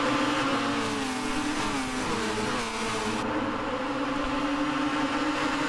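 Red Bull X2014 Junior race cars in a racing video game, their engines droning and revving steadily and loudly throughout with no talk.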